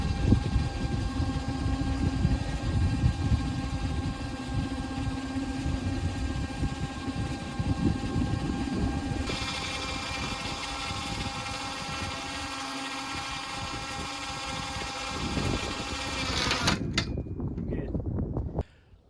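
A Coleman UT 400 electric winch winds its cable with a steady, loud mechanical whine and hum that runs continuously before cutting off abruptly near the end.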